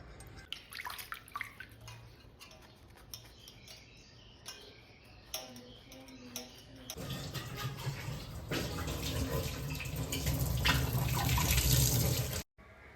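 Money plant leaves being washed clean under running water, a steady splashing, trickling stream close by that grows louder and fuller partway through and cuts off abruptly near the end.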